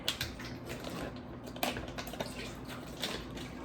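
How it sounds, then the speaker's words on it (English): Water trickling and dripping from a block of firm tofu as it is drained in a home kitchen, a close, irregular patter of small splashes and taps with a few louder drops, no voices. "drain this tofu"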